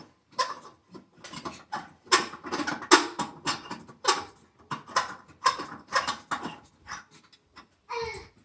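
A 40 watt oven appliance bulb is threaded by hand into its range socket, giving a close, quiet run of small scraping clicks and ratcheting ticks in irregular bursts, with no talking.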